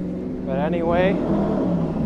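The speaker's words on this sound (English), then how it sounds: "wait for this motorcycle to pass by before I say my outro" A motorcycle passes along a busy street in Richmond Hill, Queens, near the J and Z train line, its engine rising and falling as it goes by, loud and close over a steady traffic rumble.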